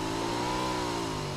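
A vehicle engine in the PUBG Mobile video game revs in a steady, sustained drone, loud and close, holding a constant pitch throughout with no speech over it.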